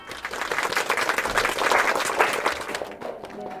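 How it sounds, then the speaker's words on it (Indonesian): Brief burst of applause, a few seconds of dense clapping that swells and then fades quickly, fairly close and loud with no talk over it. "Tepuk tangan."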